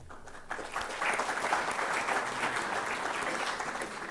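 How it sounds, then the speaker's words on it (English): Students and faculty clapping together in a hall, a dense, even wash of applause that swells after a quieter start and holds steady, with faint voices underneath. "I am so glad even boys are clapping."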